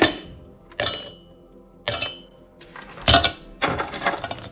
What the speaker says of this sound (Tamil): இப்போ ஒவ்வொன்றையும் இப்படி 2 சுண்டை உடச்சி கிரைண்டர் கப்பில் போட்டு அடிச்செடுப்போம்.